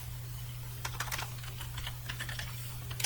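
Quick, light keystrokes on a computer keyboard in short irregular bursts, faint and close, over a low steady hum.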